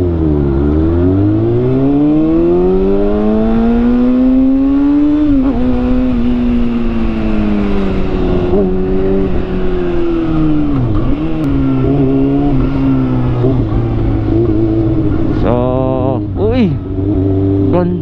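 A Dodge car engine revs loudly and steadily, rising and falling in pitch with several sharp throttle blips near the end, close by and continuous throughout.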